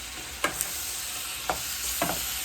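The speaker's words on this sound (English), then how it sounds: "just toss everything to coat" Pea pods and carrots tossed in a honey glaze in a hot pan, a constant close sizzle with three brief scraping stirs.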